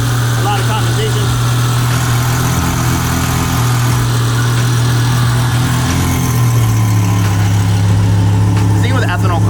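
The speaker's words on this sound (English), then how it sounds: "I love cold start. Turbos make a lot of noise." A turbocharged ethanol-fueled car engine idles just after a cold start, a steady loud low drone with a constant hum that shifts slightly lower partway through, close by, with people chatting over it.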